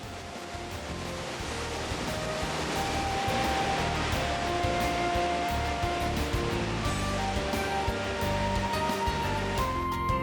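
Waterfall in a rainforest gorge near Kuranda, Australia, with much of its flow diverted for hydroelectric use, giving a steady, broad rushing roar of falling water that holds constant throughout with no talking.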